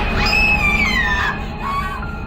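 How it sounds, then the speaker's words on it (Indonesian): A woman's high, wavering scream of fear rings out loud and sustained, sliding downward in pitch before a shorter second cry, a horror-story sound effect. "Seketika Tari pun menjerit-jerit ketakutan"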